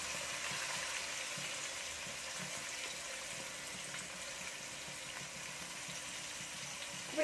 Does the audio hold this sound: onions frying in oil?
yes